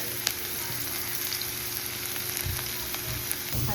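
Onions fry in oil in a pan for a potato dish, giving a steady close sizzle with small crackles and an occasional stirring clink, and no talk.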